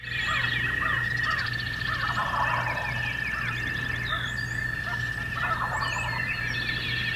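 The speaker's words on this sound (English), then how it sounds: "As you can hear, they've got turkeys too." Wild turkeys gobble repeatedly in the distance during a turkey hunt in Illinois, over steady outdoor ambience, with other bird calls mixed in and a constant high-pitched tone throughout.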